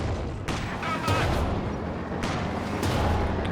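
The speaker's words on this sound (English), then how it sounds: "Double anti-tank guns coming back out for the Panzer IV" Anti-tank guns firing at a Panzer IV in a World War II strategy game, with a few heavy booming shots over a dense, noisy battle backdrop and faint commentary underneath.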